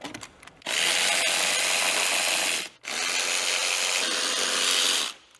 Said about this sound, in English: So go ahead and loosen up all these and take them out all the way.